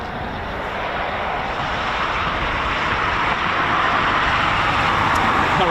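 Eurofighter Typhoon FGR4 jet departing RAF Coningsby, a loud broadband jet roar that swells steadily and builds, with no voices.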